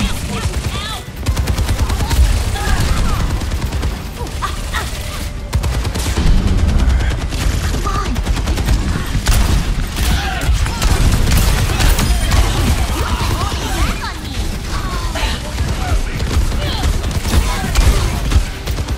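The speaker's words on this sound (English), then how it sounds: "This shotgun is so good." Reaper's shotgun in Overwatch 2 blasts again and again amid dense, chaotic match gunfire and booms, loud and constant, with players' voices talking over the fight.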